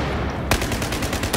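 Assault rifle gunfire in the shooter game Battlefield, a sudden loud burst that breaks into rapid repeated shots over a dense, noisy game soundscape.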